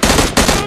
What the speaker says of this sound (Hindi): इसे हम असोल्ट राइफल से नॉक और फिनिश दोनों करते हैं